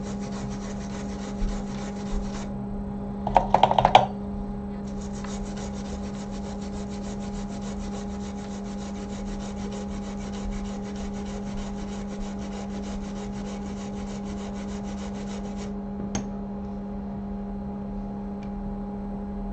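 Scrubbing epoxy off an iPhone 7 logic board during a baseband repair, a faint, dry rubbing heard briefly amid a steady electrical hum and buzz, with a few short scraping bursts early and a quiet tick later.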